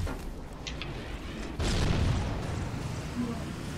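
Rocket launcher firing in the Halo CE Anniversary campaign, with a sudden heavy boom midway that leaves a loud, rumbling blast tail lingering over continuous in-game background noise.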